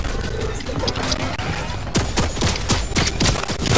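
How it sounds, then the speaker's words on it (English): A turret firing in the video game Fortnite, rapid repeated shots that build into a dense burst of evenly spaced reports in the second half, loud over continuous game noise. "Another one my turret's firing at."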